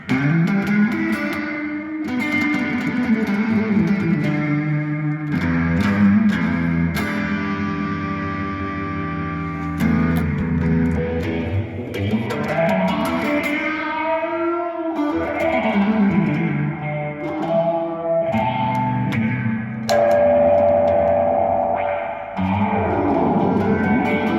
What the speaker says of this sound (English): So let's add some phase. Let's add some drive and some reverb.